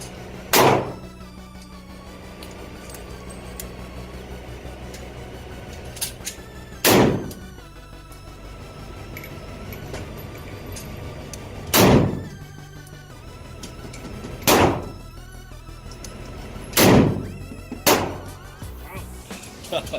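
Sa. vz. 58 rifle shots fired indoors crack out one at a time, six loud booming reports spaced several seconds apart, each rattling the room, with people talking quietly between them.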